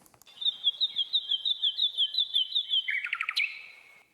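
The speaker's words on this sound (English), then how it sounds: "the nightingale with its two notes and some kind of trilling behavior" A nightingale sings a clear, high repeated two-note figure in quick succession, then breaks into a short buzzing trill, close and alone against silence.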